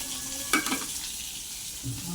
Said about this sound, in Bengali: মাছ ভাজাটা হচ্ছে হোক আর ভাতও হচ্ছে হোক।